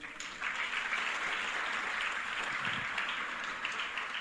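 A church congregation claps in praise during a sermon, a soft, even patter of applause heard from some distance, sustained and fairly faint for the whole stretch.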